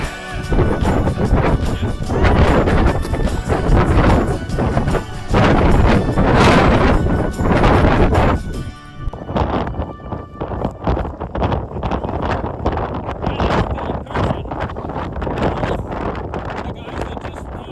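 Strong cold wind on Franconia Ridge in winter buffets the microphone in loud, continuous roaring gusts. The blast is harshest over the first half and eases slightly to a steadier rumble afterward, with no clear voice over it.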